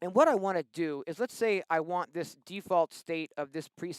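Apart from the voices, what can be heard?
None of the usual background noises is heard.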